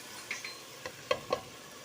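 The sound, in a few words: chicken being roasted (bhunai) in a pan with salt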